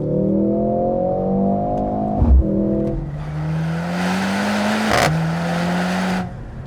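A 2025 Mercedes-AMG GLC 63 S E Performance hybrid with an inline four accelerates hard, its engine climbing through gears with quick shifts and rising revs, loud and close inside the cabin.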